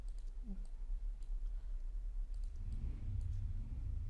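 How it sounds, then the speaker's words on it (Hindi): Computer mouse clicking while editing in Photoshop: a few faint, sparse clicks scattered over a low background hum, with no talking. "यहाँ पे हम इसको क्लिक करेंगे"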